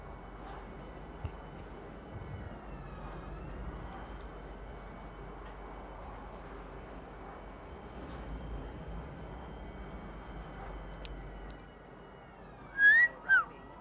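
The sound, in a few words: train ride in Star Citizen video game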